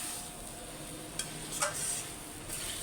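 A spiced vegetable curry sautés in oil in a pan, giving a soft, steady sizzle with a few light stirring clinks and scrapes, fairly quiet and without voices.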